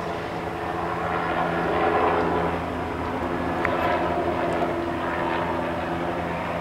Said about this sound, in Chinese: 直升机还在天空飞啊飞啊飞，我看到。